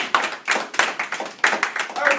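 A small group claps for a winner in a classroom-style activity, a few short, uneven bursts of hand claps close by, sparse rather than a full ovation.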